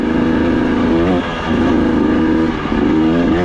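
A motorcycle engine revs up and down several times, loud and close, its pitch rising and dropping in repeated bursts, in the mountains near Sargents, Colorado.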